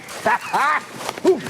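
A dog gives short whining barks and whimpers, close and fairly loud, in a few brief bursts of rising and falling pitch.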